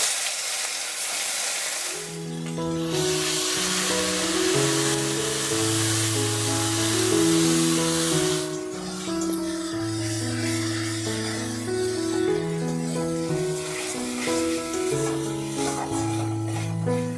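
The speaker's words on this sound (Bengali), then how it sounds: "পেঁয়াজ রসুন আদাটা একটু ভাজা ভাজা হয়ে গেছে।" Onion, garlic and ginger paste fries in oil with cardamom, cinnamon and cloves for a Bengali tangra fish tel jhal. A steady, close sizzle runs under prominent background music.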